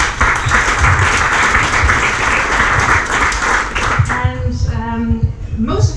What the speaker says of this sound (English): Applause for Roda